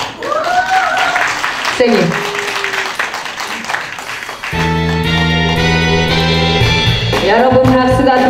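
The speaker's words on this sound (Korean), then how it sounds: "여러분 박수가 필요합니다." Audience applause at a trot singer's mini-concert and fan meeting in Cheonan: clapping under a speaking voice, then instrumental music starts.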